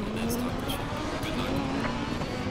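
A Lamborghini Huracan GT3 racing around Monza in Assetto Corsa Competizione, driven with a wheel: a steady engine drone with a slowly rising pitch that holds loud and continuous for the whole stretch.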